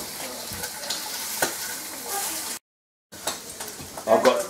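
Bacon sizzles and spits in a frying pan during a home breakfast, a steady crackling hiss with occasional stirring scrapes, a brief dropout midway, then louder popping bursts near the end.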